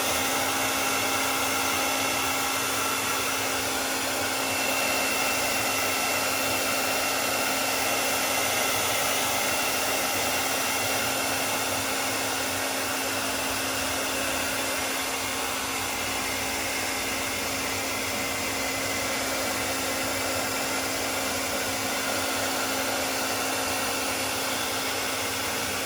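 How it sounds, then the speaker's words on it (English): A hair dryer blows hot air over a heat-friendly synthetic wig, a loud, steady whirring rush that holds unbroken and close for the whole stretch, with no talking. "Easiest way I know how to do is just take your hair dryer, a few seconds,"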